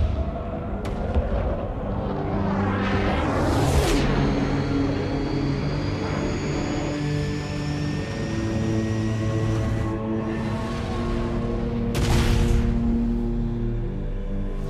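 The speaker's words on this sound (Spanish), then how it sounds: "¿Esa explosión será suficientemente fuerte como para desestabilizar el halo?" A large explosion in the Halo CE video game, a loud broadband blast with sweeping tonal effects and rumbling layers, followed by a second burst near the end, with no talking.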